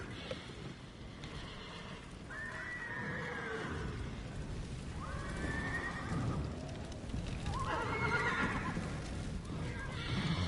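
Horses in the video game Ghost of Tsushima whinny loudly three times over a steady background of hoof clip-clop and ambient rumble, each neigh rising and trailing off.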